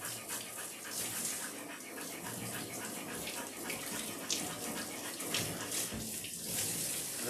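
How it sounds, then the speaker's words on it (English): Low-pressure water from a grooming sprayer steadily rinses soap off an Australian Shepherd, making a continuous close hiss and splatter throughout, with no talking. "Now low water pressure, we'll rinse it all off."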